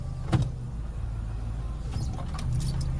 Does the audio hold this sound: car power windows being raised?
yes